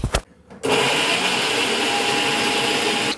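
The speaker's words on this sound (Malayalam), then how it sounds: "നന്നായിട്ടൊന്ന് അരച്ചെടുക്കാം. പേസ്റ്റ് രൂപത്തിലാക്കി എടുക്കാം കേട്ടോ." A mixer grinder grinds pineapple pachadi ingredients into a smooth paste. It runs as a steady, loud whirring drone that starts abruptly after a short quiet moment and continues without a break to the end.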